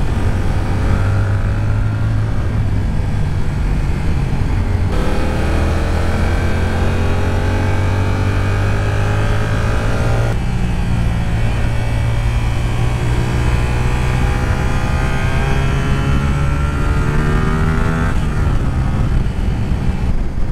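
A light, nimble motorcycle ridden along a winding road full of bends, its engine droning loudly and continuously close by, the pitch rising and dropping with shifts through the curves.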